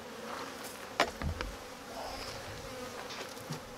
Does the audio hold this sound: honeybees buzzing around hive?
yes